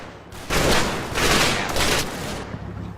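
Machine gun fire in the wargame Combat Mission: Battle for Normandy, sounding as several loud sustained bursts of rapid shots that swell and fade over a few seconds, fairly close and without talk.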